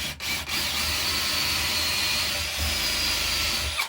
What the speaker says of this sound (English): So you drill your big hole first.